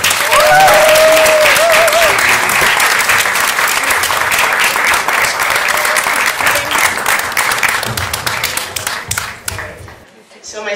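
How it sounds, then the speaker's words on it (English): A big round of applause for Debra Stern at a Black History Month award ceremony, loud crowd clapping with sharp individual claps that thin out and fade near the end. "Let's give a big round of applause for Debra Stern, everyone."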